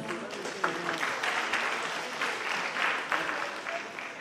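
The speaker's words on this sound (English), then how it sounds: "So we have to give them another round of applause." A parish audience at a church anniversary celebration gives a round of applause, an even stretch of moderate clapping with a few sharper claps, steady throughout and heard without speech.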